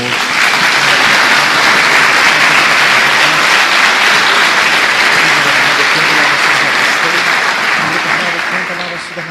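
A church congregation breaks into loud, sustained applause that fills the room evenly for the whole stretch, a dense wash of many hands clapping with some voices faintly mixed in, tapering slightly at the end.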